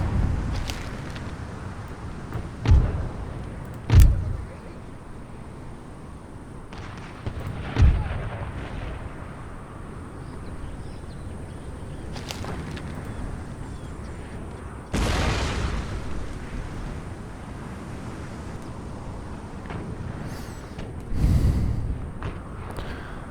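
Siege artillery in Empire: Total War fires several deep, booming cannon shots at irregular intervals. Some are close and loud and others more distant, over a low rumbling battlefield background.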